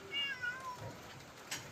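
A cat meows in a barn, a short run of thin rising and falling cries early on, fairly quiet against low background noise.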